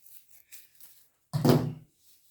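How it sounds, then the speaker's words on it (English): Scissors make a single crisp cut through folded colored paper, a short close rasping snip after a few faint paper rustles. "get your scissors and make your cut"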